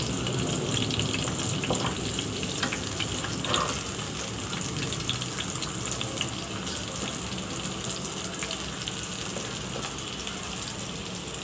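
Bottle gourd chops fry in oil with a dense, steady sizzle and crackle that carries on close and loud without a break, and no one speaks.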